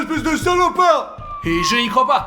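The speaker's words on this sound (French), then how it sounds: "C'est une sirène? La police?" Police siren wailing with rising and falling tones, heard under an agitated voice speaking close by, partly masked by the talk.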